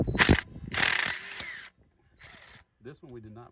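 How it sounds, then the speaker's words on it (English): A small nut driver loosening a nut during EGR service on a Cummins 6.7 diesel gives short, close clicking ratchet bursts separated by pauses, with a brief bit of talk near the end. "And this is just a little nut driver."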